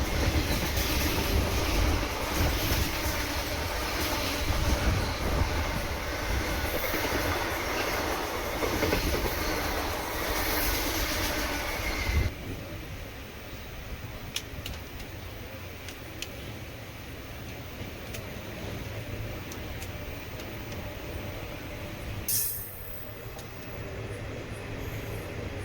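Chennai Egmore Express passenger train on the Kollam to Chennai Egmore run: a steady, loud rumble of rolling wagons and track noise throughout. It drops to a quieter, softer running sound about halfway, with a brief rattle near the end.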